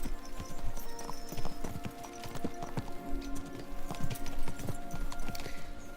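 Horses gallop across open ground in Kingdom Come: Deliverance 2, with rapid, irregular hoof clatter close by over a steady ambient bed. Faint game sounds sit beneath the drumming beats.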